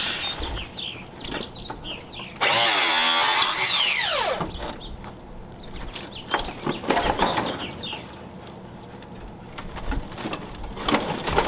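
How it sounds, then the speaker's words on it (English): A cut-off grinder slices through old 1938 Ford parts in a loud, harsh whine. Bursts of cutting come and go with clanks and rattles between them. "Cut off grinder."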